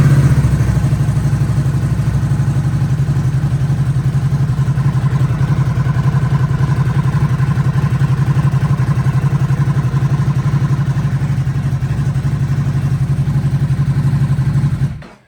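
A Ducati motorcycle engine runs at a steady idle after starting, a loud, continuous low rumble with faint mechanical clatter that holds evenly before cutting off abruptly at the end.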